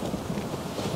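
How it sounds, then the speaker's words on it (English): Heavy rain pours steadily with a low thunder rumble in the video game Max Payne 2, a dense, constant wash of storm noise filling a brief moment with no voices. "Raining cats and dogs!"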